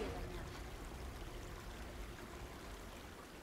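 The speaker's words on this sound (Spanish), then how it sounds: "Ya está. El agua sale de esa tubería dañada." Water gushing from a damaged pipe in Horizon Forbidden West, a steady, moderately quiet broadband rush and trickle that continues evenly without pause.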